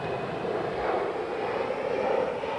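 An ANA Boeing 777 airliner departs Heathrow runway 27R, a steady loud engine roar with broad rumble holding throughout, no talking.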